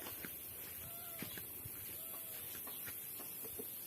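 Hens cluck in short, scattered bursts against a quiet farmyard background, with a few brief calls rising above the murmur.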